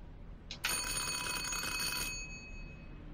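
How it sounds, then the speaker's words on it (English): An apartment doorbell in the Mafia 2 video game, a single short electric ring lasting about one and a half seconds, clear and fairly close against a quiet room. "Go answer the door, Joe."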